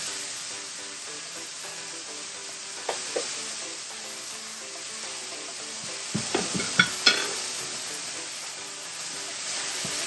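A steady hiss of sizzling fills the pan while a utensil scrapes and clacks now and then as sugared apples fry and are stirred to cook off their water.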